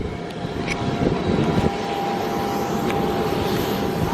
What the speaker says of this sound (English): There's the plane today.